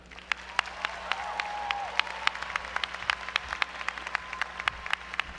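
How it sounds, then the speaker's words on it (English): Commencement audience at FAMU claps in a steady, moderate round of applause heard from a distance. Sharp individual claps stand out against a soft crowd murmur. "please give a FAMU round of applause and warm welcome back home to our speaker, Dr. Mareena Snowden."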